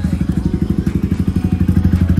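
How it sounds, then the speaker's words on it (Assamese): A Yamaha MT15 motorcycle with a full-system Akrapovic exhaust idles close by with a deep, loud, rapid exhaust pulse, a steady throbbing burble through the whole stretch. "এইডাল ফুল চিষ্টেম এক্সস্ট এক্ৰাপৰ বেগ তো খাতৰা আৱাজ দিছে"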